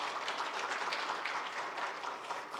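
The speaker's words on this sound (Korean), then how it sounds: "우리 인사하실 때 박수로 환영하겠습니다." A church congregation applauds at a Sunday worship service to welcome a new minister, giving a soft, steady patter of many hands heard from a distance that runs through the whole moment.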